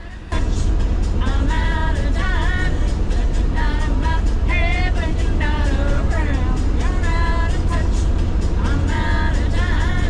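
A van cruising at about 80 km/h on a highway at night hums with a steady low road and engine rumble, and someone talks continuously over it.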